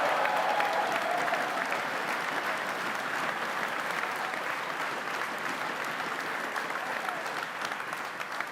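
Sustained applause from a large crowd at a Friday night political rally in Ottawa fills the space, a dense, steady clatter of many hands that barely eases across its length, with no clear talk over it.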